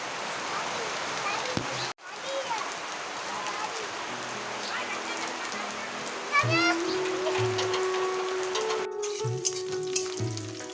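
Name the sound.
cabbage and potatoes frying in a pan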